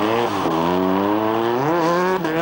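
Rally cars race along a Finnish rally stage, the engine roaring loud and close with harmonics sweeping up and down as the driver works the throttle through a tricky corner.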